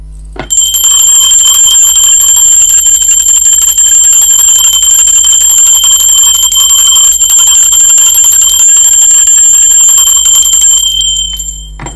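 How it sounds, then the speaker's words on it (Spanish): A loud, bright bell rings continuously with a sustained metallic tone and shimmering overtones, starting abruptly after a brief pause and holding steady for about ten seconds before cutting off. "Va campana, ser divino."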